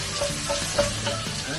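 Garlic sizzles in a hot pan, a steady crackling fry with light stirring scrapes, close and even throughout.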